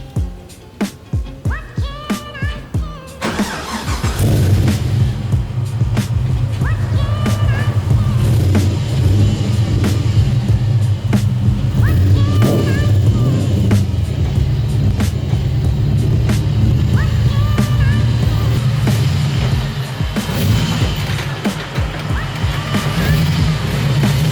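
The engine of a replica Nissan 180SX (S13) with an LS1 V8 starts up and settles into a loud, steady idle, then rumbles along as the car pulls out of a garage, with some talking early on.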